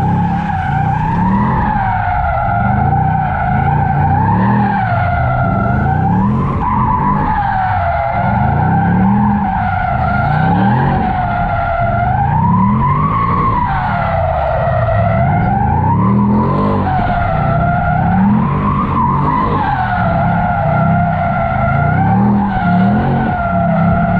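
Ford Mustang RTR doing a burnout, tires squealing loudly and continuously in wavering pitch over a revving engine for the whole stretch.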